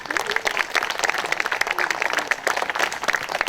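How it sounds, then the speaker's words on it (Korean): An audience at a May 18 memorial ceremony applauds, dense overlapping hand claps that keep a steady level, moderately close, with no talk over it. "큰 박수 부탁드리겠습니다"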